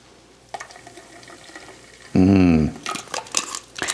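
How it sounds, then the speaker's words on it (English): A spoon clinks and scrapes in a container while an active yeast mixture for homemade sake is stirred, with scattered taps and a brief louder tonal burst midway. "So I'll just give this a stir, make sure there are no clumps remaining."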